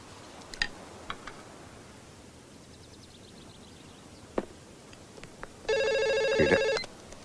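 A telephone rings in a single sustained electronic burst of about a second in a quiet room, preceded by a few faint scattered clicks and ticks, with no one talking.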